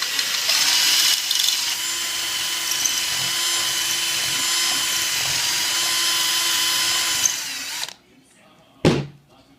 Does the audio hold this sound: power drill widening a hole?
yes